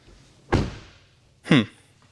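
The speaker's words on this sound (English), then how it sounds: "Let's try the front door." A Ford Mustang Mach-E Rally front door shuts with a solid, close thump, and a second similar thud follows about a second later. Both are loud and distinct against a quiet background, with no talking.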